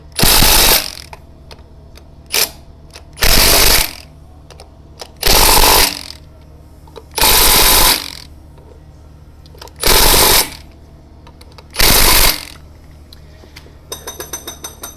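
An impact wrench tightens the wheel bolts on a tow-type topdresser, firing six loud rattling bursts of about a second each, separated by short pauses, close by.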